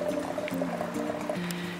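Stream water pours into a water filter on a Yosemite backpacking trip, a close, steady gurgle of filling with hollow tonal notes that shift in pitch as it fills.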